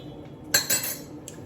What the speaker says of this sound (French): J'ai une casserole, là, vous voyez.